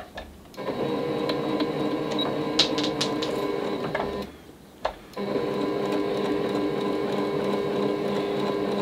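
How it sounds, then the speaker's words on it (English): A sewing machine stitches layers of a quilt made from five fabrics, a steady close mechanical whir that pauses briefly midway for a short backstitch, then runs on evenly. "I'm going to stitch a little bit back stitch just to anchor that stitch down."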